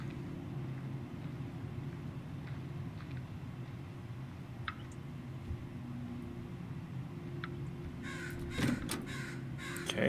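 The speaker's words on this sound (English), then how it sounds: "There's a crow outside." Crows caw outside in the horror game Shadow of Pharos, a few faint, distant calls over a steady low ambient drone, followed by a brief louder clatter near the end.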